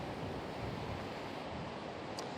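Fast-running flood water on the Seneca River in Baldwinsville during spring snowmelt, a steady, loud broadband rush and roar with some wind buffeting across the microphone, continuous throughout with no speech.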